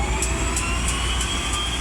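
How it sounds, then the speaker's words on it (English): Turbine-powered Otter or Beaver floatplanes give off a loud, steady turbine whine over a deep engine rumble, with a faint regular pulsing tone that repeats evenly throughout. "The characteristic whine of the turbine otters and beavers is a reminder to always look to the future."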